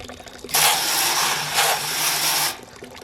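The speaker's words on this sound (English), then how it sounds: "that's just emptying out and rinsing everything out into the bucket" Water from a BrewZilla Gen4 brewing system being emptied and rinsed into a bucket makes a loud, steady rushing splash lasting about two seconds, with a brief swell in the middle before it cuts off.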